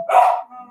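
A dog gives a single short, sharp bark followed by a faint trailing whine, heard close and alone.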